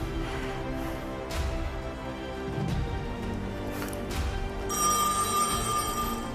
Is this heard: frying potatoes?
no